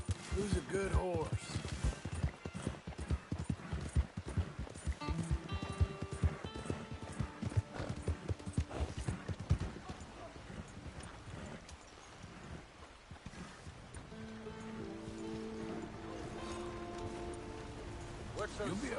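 Horse hooves clip-clop in Red Dead Redemption 2, a steady rhythmic trot of close, crisp hoof falls that later eases, with a faint whinny and spoken voices over it.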